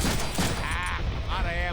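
Rapid gunfire in a Wolverine video game, with a couple of short sharp bursts up front followed by voices talking over the action.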